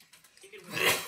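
A single short sneeze, a breathy intake rising into a sharp hissing burst near the end, fairly quiet and close.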